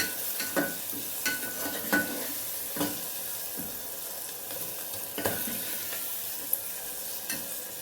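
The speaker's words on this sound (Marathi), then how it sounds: "हे छान परतून घ्यायचे मस्त सर्व मिक्स करायचे आपल्याला" Onion masala sautéed and stirred in a pan in a home kitchen, the spoon scraping in irregular bursts over a steady low sizzle, with no voices.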